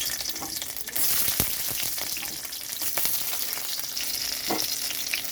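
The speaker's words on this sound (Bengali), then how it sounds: "এখানে কড়াইতে সর্ষের তেল দিয়েছি, সর্ষের তেলটা গরম হয়ে গেছে। তো এখানে আমি দিয়ে দিচ্ছি রসুন ভাজার জন্য।" Garlic hits hot mustard oil in a wok, giving a steady close sizzle and crackle with faint scraping stirs, and no talk over it.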